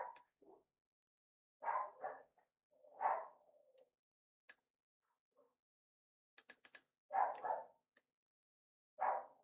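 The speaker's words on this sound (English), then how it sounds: "I'm so sorry if you can hear my dog." A pet dog barks in short, separate bursts from a little distance, several sharp woofs spaced across a quiet room with brief pauses between them.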